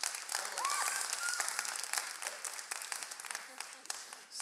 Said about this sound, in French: Vous auriez dû applaudir, là, c'était le temps d'applaudir.